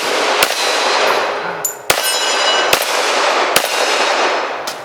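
Pistol shots ring on a steel target, five sharp metallic clangs spaced roughly a second apart, each with a short bright ring, loud and close over a steady background hiss.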